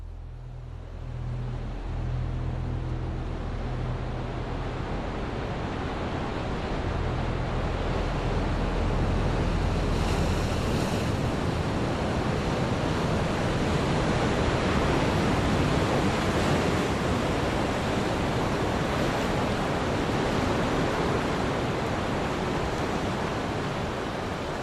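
Steady, rushing surf of sea waves on the desert shore at Elizabeth Bay, Namibia, forming a continuous broad roar with some wind noise and no voices.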